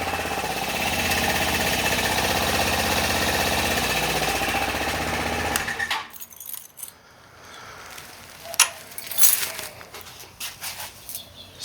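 A Venom x22GT 250cc automatic motorcycle idles steadily for about six seconds with a dense, even engine drone, then cuts off, leaving quieter scattered clicks and handling noises close by.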